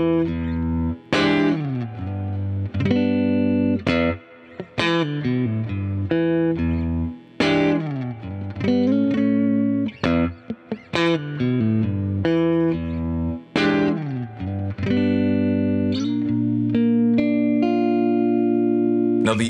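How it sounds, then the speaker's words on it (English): An electric guitar, likely a Fender, plays a series of chords and bent notes through a boosted, slightly gritty amp with high gain and lowered guitar volume, with short gaps between phrases. "really crank the gain on this and crank up the boost, and then lower the volume on the actual guitar"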